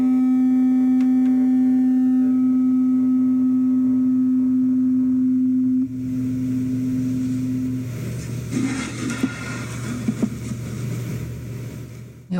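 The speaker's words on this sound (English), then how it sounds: "You probably heard the second tuning fork already had a sound." Tuning forks mounted on resonating sound boxes ring as a steady pure tone that holds for several seconds and then gives way to a fainter hum with some handling noise.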